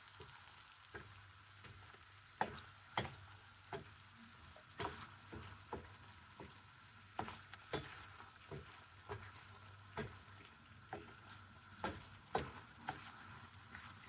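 A first homemade curry sauce sizzles and bubbles in a pan, soft frying hiss under regular sharp clinks and taps of a utensil stirring against the pan, with no talking.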